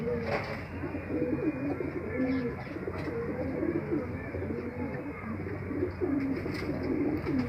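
Several pigeons coo in low, repeated rolling phrases throughout, close by and steady, with faint chirps and a light background hum.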